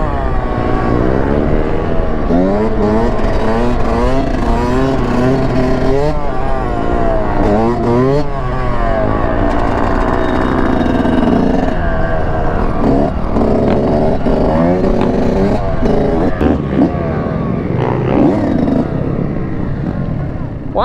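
A Suzuki dirt bike rides around a stunt lot, its engine revving and droning loudly and continuously with rising and falling pitch, while people talk and shout over it.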